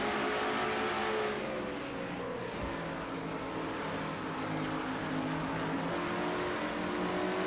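Onboard view of a stock car racing in a video game, a loud, sustained engine roar holding high revs with slight pitch shifts throughout.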